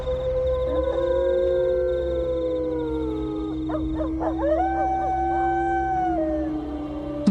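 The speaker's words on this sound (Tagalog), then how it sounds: "Bigla akong nataranta ng marinig ang sunod-sunod na alulong ng aswang, Madam Venus." Long, layered howls of an aswang creature, used as a sound effect in a narrated Filipino horror story from Capiz. Several sustained wavering howls overlap and rise and fall at a steady, moderate loudness, with no speech.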